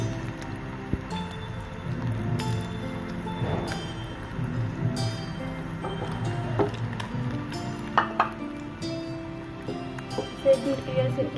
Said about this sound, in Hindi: तो एक इसमें ऐसे उठाएंगे और फ्राई करेंगे। ऑयल हमारा गर्म था